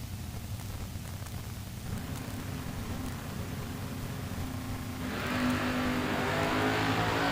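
A Mustang and a Camaro at a drag race make a steady distant engine roar under wash-like noise that swells louder near the end as they accelerate.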